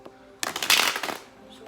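A single quick riffle shuffle of playing cards, a short burst of rapid fluttering snaps close by, with faint talk around it.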